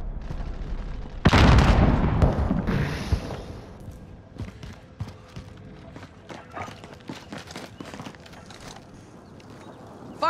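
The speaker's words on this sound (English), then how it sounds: "Throwing frag." A frag grenade goes off in Call of Duty: Modern Warfare with one loud, close blast and a rumbling tail, followed by scattered gunfire and game noise.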